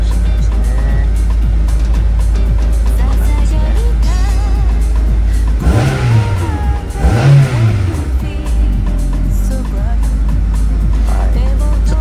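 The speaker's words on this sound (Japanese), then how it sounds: "今度エンジン音で聞こえないかもしれないですね。" Idling engine of a 22-year-old convertible car, a steady low rumble running throughout, close by, with a person talking over it.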